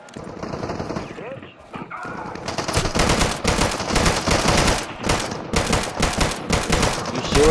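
Automatic and single gunfire in the survival shooter Deadside, loud and close, with bursts filling most of the clip while players talk over it.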